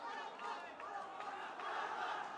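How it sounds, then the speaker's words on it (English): Crowd cheering at a bantamweight MMA bout, a dense continuous roar of voices with rising shouts, moderately loud and steady. "The crowd is going nuts for both the players."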